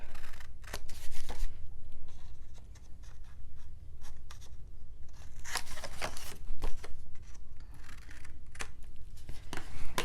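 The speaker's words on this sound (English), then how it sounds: "we are going to cut the corners" Scissors snipping the corners of paper for a Stamperia Grand Hotel scrapbook mini album, a few crisp close cuts scattered across the stretch amid light paper handling and rustling, with no talking.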